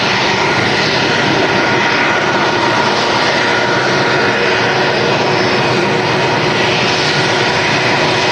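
A British Airways Airbus A319 arriving from London Heathrow and touching down at Manchester Airport, heard as a loud, steady jet engine roar with broadband rushing noise throughout and no talk.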